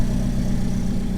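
A stock Alfa Romeo engine idles steadily with a smooth, low rumble close by.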